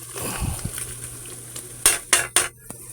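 Ground pork being stirred in a pan for giniling, with a spoon scraping and tapping the metal pan under a soft sizzle, ending in three sharp clanks.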